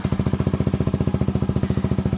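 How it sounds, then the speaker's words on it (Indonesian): A motorcycle engine idles steadily through a copy Akrapovic aftermarket exhaust made in Purbalingga, a loud close low-pitched rhythmic putter with no throttle blips. "coba dihidupin motornya"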